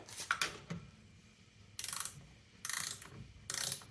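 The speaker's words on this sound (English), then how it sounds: "pull out your torque wrench again. Put that socket on." Torque wrench ratcheting while tightening wheel bolts on a Chevy Bolt EV, several separate close bursts of rapid metallic clicking, each lasting about half a second, with quiet gaps between and no talk.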